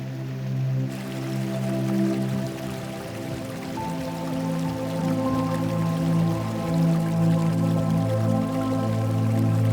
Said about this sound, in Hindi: पहाड़ों से गिरता ये पानी सिर्फ एक झरना नहीं,